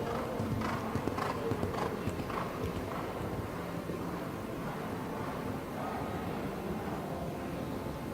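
Hooves of a 9-year-old mare, Lady Abigail, clip-clopping across the footing of an indoor show jumping arena at a grand prix: a steady, dense patter of hoof falls at moderate level that continues through the whole stretch.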